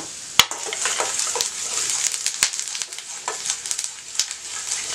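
Urad dal, black pepper and cumin sizzle steadily in hot oil, a bright crackling hiss broken by a few sharp spatters and pops close by.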